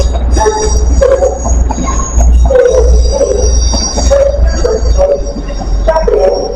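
A CrossCountry Voyager train on an Edinburgh to Plymouth service moves through a station with a loud, steady rumble, squealing wheels and rattling carriages, close by and with no voices.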